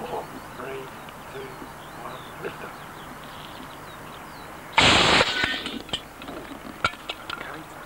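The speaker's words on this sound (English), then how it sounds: "This next rocket decided to CATO on liftoff" A model rocket motor fails catastrophically on liftoff, a sudden sharp blast and roaring burst midway through an otherwise quiet outdoor scene with faint birdsong, trailing off into a few scattered pops and crackles.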